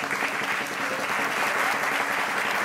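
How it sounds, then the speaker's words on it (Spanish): Sustained, loud applause from an audience at a drum show, a thick even wash of many hands clapping together with no break or speech. "Fuerte aplauso."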